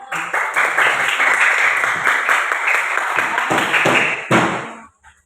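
A sixth-grade class claps together loudly and steadily during a science lesson on wind-powered electricity. The clapping ends in a final sharp burst and then falls silent.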